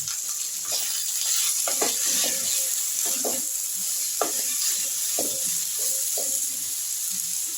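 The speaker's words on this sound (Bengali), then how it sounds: "সব সবজিগুলো দিয়ে আমি খুব ভালো করে একটু নেড়ে চেড়ে নিচ্ছি।" Mixed vegetables with salt fry in a pan for a sabu (sago) dish, a steady close sizzle broken by regular scraping and tapping from a spatula stirring them, with no voices.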